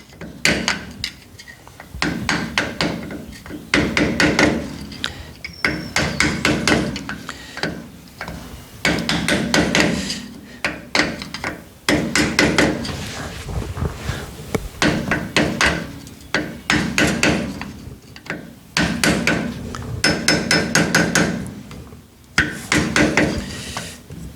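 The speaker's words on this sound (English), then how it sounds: "Just very gently tap that on." A brake part is tapped into place on a classic Ford Mustang with a hammer, in repeated bursts of light metallic taps separated by short pauses, close and clear with no talking.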